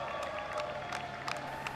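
A large crowd of aides and supporters cheering and applauding in Downing Street, a steady wash of claps and whoops with a few sharper bursts standing out.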